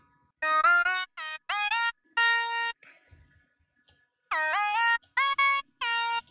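Bright, buzzy thin sawtooth synth trance lead playing short staccato chords and sustained notes in a choppy rhythm, with brief silent gaps between phrases.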